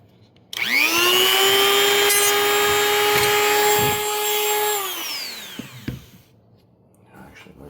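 A Dremel rotary tool grinds the tang of a Beretta 1301 shotgun, a loud steady high whine that spins up, holds for several seconds, then winds down, followed by a few small clicks and handling noises.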